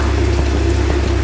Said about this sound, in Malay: So nampaknya hari ni Kuala Lumpur hujan